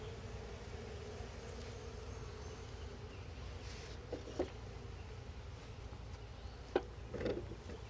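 Honeybees that have just been moved into nuc boxes keep up a steady, low, noisy hum close by, with a few brief rustling knocks breaking through the drone.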